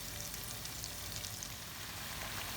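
Diced Albanian-style liver fries in hot oil, giving a steady, close crackling sizzle throughout with no other sounds.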